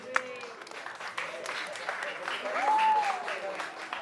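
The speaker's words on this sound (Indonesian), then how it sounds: "Mungkin boleh tepuk tangan nih ke Kak Timo" An audience at a talkshow exhibit event applauds with a steady wash of clapping, while voices keep talking and a high tone sweeps through partway.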